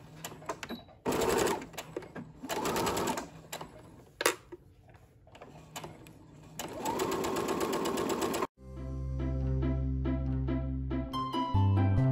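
A sewing machine joins two front fabric pieces 1 cm from the edge, running in several short and long bursts of rapid stitching separated by pauses, close and clear.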